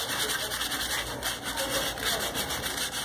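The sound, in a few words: sanding old chair with sandpaper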